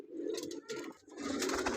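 Pigeons cooing in a loft of Faisalabad flier and paired breeder pigeons, one a red-eyed mated bird, soft throaty coos repeating close by with no talk.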